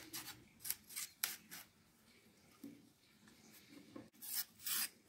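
Sharp knife scraping fibres from a cardoon stalk, a series of short dry rasping strokes in bursts, close and fairly quiet, with pauses between passes.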